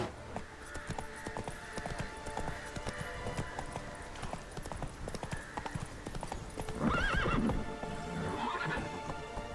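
Roach, a horse in The Witcher 3, gallops with a quick, rhythmic patter of hooves, and partway through comes a loud, close whinny over the running footfalls.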